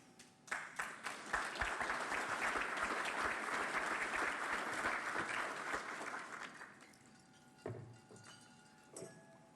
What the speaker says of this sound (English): Good timing on the applause, thank you.